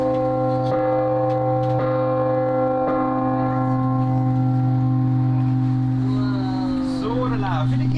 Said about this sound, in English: And what great clock wouldn't be complete without a bell?